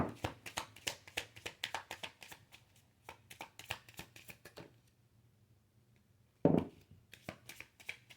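Tarot cards being shuffled, a rapid run of crisp riffling taps, then a pause and a louder single slap of the deck before lighter shuffling resumes; close and fairly quiet, with no talk.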